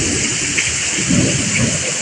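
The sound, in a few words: heavy rain with thunder in Kalsuli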